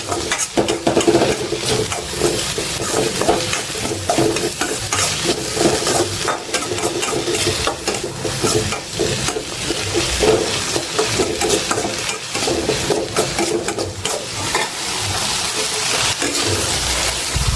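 Turmeric-coated puffed rice (mandakki) for North Karnataka susla roasts in a pan, a continuous dry crackling sizzle with steady stirring and scraping, loud and close, with no voices.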